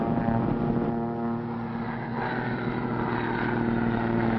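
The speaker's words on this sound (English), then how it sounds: "only Barton's plane" A propeller airplane drones overhead, a loud, continuous engine hum with a steady pitch that swells slightly and then holds, with no voices.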